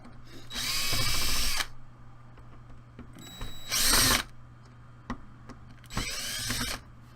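Power drill backing out the main and rear spring guide screws of a Classic Army SCAR airsoft AEG during a rebuild, three separate whirring bursts of about a second each with short pauses between, close and loud, no talking.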